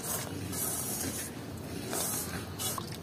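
Lukewarm water poured into rice-flour pitha dough for Makar Sankranti sweets, a close, steady splashing hiss that swells in several bursts over a few seconds with no talking.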